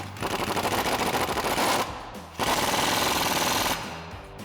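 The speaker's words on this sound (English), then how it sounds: "grab our 21mm socket on our impact" Impact wrench with a 21mm socket tightening a bolt on a Jeep Wrangler JK 3-inch lift kit, two loud, rapid hammering bursts separated by a brief pause, each trailing off as the bolt seats.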